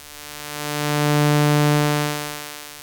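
A high-pass Steiner filter on an Arturia MatrixBrute synthesizer gives a single sustained, buzzy tone rich in harmonics that swells in and fades out over about three seconds, heard on its own.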